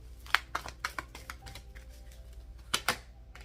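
Tarot cards are shuffled in quick, close, crisp riffling clicks and flutters, in two short bursts with a pause between.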